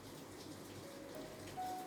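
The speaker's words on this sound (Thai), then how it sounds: "ฝนตก พอดี โชคดี วันนี้ ไม่มีเสียง ฟ้า ร้อง" Rain falls steadily with no thunder, a faint and continuous soft hiss of drops on surfaces, heard alone.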